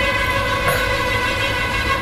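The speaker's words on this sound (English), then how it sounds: "that noise was of a truck." A truck passing outside a room, heard as a steady, loud engine drone with a low rumble and layered tonal hum, holding fairly constant throughout with no voices.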